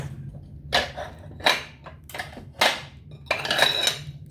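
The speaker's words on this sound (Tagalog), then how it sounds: "Kaya sa plato ko na lang ito i-chop." A knife chopping chicken breast on a plate, four or five distinct ceramic clacks spaced about a second apart, close and clear with little else around.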